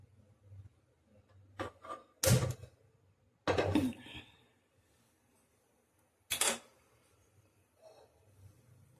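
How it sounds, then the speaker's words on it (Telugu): Gas stove burner lit in a home kitchen while cooking an egg curry: a few sharp clicks and bursts of ignition separated by quiet pauses, close and fairly loud, with faint background noise between. "గ్యాస్ అయితే వెలిగిస్తాను."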